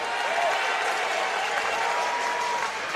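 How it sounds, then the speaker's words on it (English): Crowd at a youth basketball grand final between Frankston and Camberwell cheers and applauds steadily around a shot, a broad continuous roar that holds level throughout with a commentator's voice faintly over it. "They are cheering every shot."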